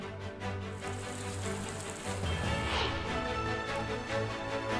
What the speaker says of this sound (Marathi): अधूनमधून पावसाच्या सरी कोसळत आहेत